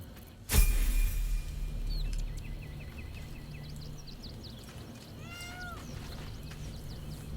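A cat in Baldur's Gate 3 gives a few short, fairly quiet meows after a sharp thump, set against a low ambient hum.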